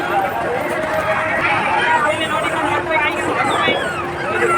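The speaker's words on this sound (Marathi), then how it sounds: "दर्शनासाठी गर्दी मस्त आहे." Busy crowd at a village temple fair in Peth taluka, a dense babble of many voices close by and all around, with footsteps and bustle throughout.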